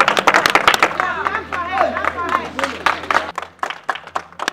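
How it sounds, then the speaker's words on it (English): An audience claps for a student at a school event, with sharp hand claps bursting out in uneven flurries amid crowd noise and speech. "Clap for her, clap for her, clap for her."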